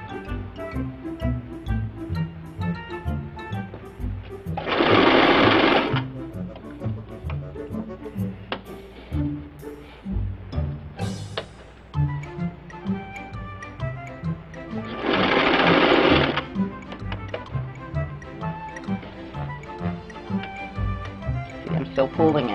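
A sewing machine stitches elastic into fabric in two bursts of steady, rapid whirring, close and fairly loud, while a person talks throughout.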